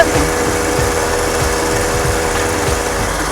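A homemade mini bike powered by a brush cutter engine runs on the road, its loud, steady buzzing drone filling the whole stretch with constant rattly vibration and no pauses.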